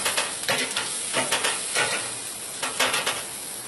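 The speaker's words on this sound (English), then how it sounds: "So I done seared the rib tips now" Rib tips coated in dry rub sear in a hot pan, giving a steady close sizzle with bursts of louder crackling as the meat is moved and stirred.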